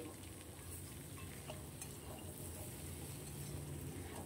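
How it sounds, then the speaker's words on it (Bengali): Young pumpkin pieces, skin still on, fry in a pan with a steady low crackle and faint stirring throughout, no voices. "এখন এটাকে ভালো ভালো করে ভাজি করে নিচ্ছি কুমড়োটা"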